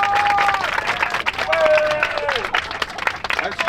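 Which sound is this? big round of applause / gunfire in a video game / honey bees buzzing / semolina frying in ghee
big round of applause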